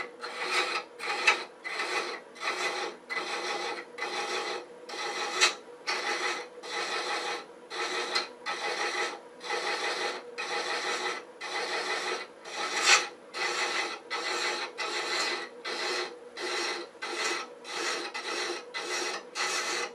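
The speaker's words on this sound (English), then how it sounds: "And now we're going to pick up that thread and then slowly bring it around. Again, let the thread chaser do the work." Hand thread chaser cutting threads into boxwood spinning on a lathe, a rhythmic series of dry rasping scrapes, one for each pass of about half a second, close and steady for the whole stretch, no talking.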